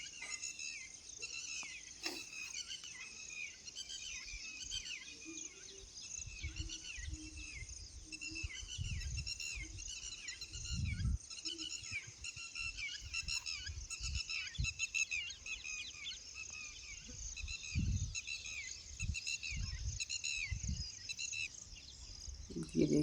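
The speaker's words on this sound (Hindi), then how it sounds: "और चिड़िया की आवाज़ तो बहुत ही प्यारी लग रही है।" Many small birds chirp and sing continuously over an open wheat field of young, short plants, a steady bright chorus joined by insect trills, with occasional low rustles and thumps close by.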